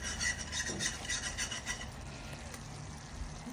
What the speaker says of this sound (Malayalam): റോസ്മേരി, പിന്നെ നട്ട്മെഗ് പൗഡർ ഇത്രയും ചേർത്തിട്ട് വീണ്ടും നന്നായിട്ട് ഇളക്കി യോജിപ്പിക്കുക